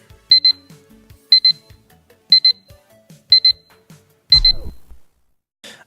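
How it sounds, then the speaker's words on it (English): An alarm clock goes off in the video game Hotline Miami 2, five evenly spaced bright double-beep bursts about a second apart, loud and close, followed by a heavier thud-like game sound. "you heard the alarm go off"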